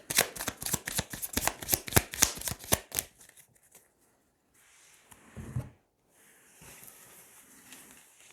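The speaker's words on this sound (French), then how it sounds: "On va tirer 9 cartes." Tarot cards are shuffled in a quick run of crisp riffling snaps for about three seconds, followed by softer sliding and brushing as cards are drawn and laid out, close up and without speech.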